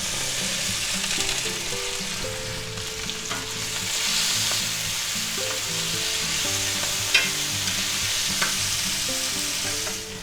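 Onions frying in a pan for pepper steak, with a constant bright sizzle and frequent stirring scrapes and taps from a utensil, plus a couple of sharper knocks.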